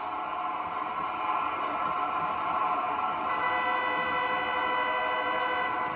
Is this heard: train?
yes